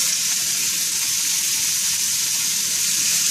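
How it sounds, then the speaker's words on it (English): Meat and homemade longaniza sausage fry loudly in a pan, a dense, continuous close-up sizzle with no pauses and no talking. "Now we want to make sure we cook all the meat first."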